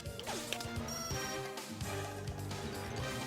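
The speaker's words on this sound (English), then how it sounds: "All the glass falling" Glass shattering and raining down in 007 Nightfire, with dense crashing and tinkling debris layered over game music and effects, steady and moderately loud throughout.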